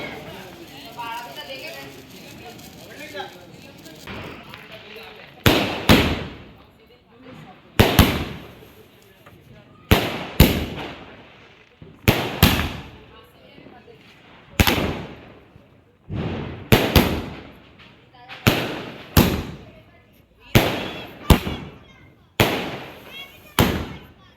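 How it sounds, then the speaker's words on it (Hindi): Sky shot fireworks burst outdoors during Diwali, with about a dozen loud, sharp bangs repeating every second or two over background chatter and crowd noise. "इसके बाद यहाँ रमन फोड़ने लगा था स्काई शॉट।"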